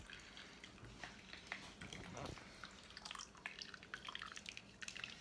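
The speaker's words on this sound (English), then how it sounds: "press them against the strainer to get the juices out" Apple mush pressed against a strainer while making apple cider: faint, irregular drips and small wet splashes of juice, close and quiet, with no talking.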